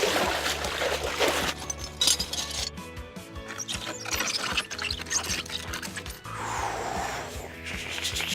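A foley liquid-freezing effect, pitched down to thicken it, comes through as dense crackling, creaking and gurgling textures that shift in bursts and pauses, with no talk over it.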